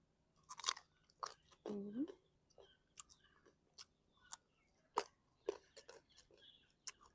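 Biting and chewing wild figs dipped in Lao jaew bong chili paste: crisp crunching bites and wet chewing clicks close to the microphone, irregular and fairly loud against a quiet background.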